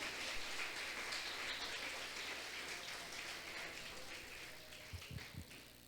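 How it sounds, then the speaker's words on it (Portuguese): A church congregation applauds during worship: steady, dense hand clapping, like a wash of rain, that carries on evenly and fades a little toward the end, heard from a slight distance with no talk over it. "Pode aplaudir ao Senhor em nome de Jesus."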